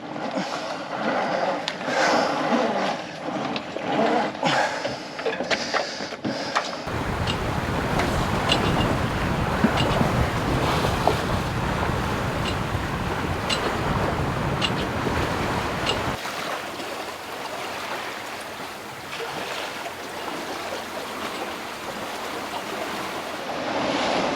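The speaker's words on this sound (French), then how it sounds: "Il y a un peu plus de 15 nœuds de vent" Steady wind of just over 15 knots roars and gusts at sea aboard a sailboat, mixed with the wash of waves against the hull, loud and continuous with a harsher buffeting stretch in the middle.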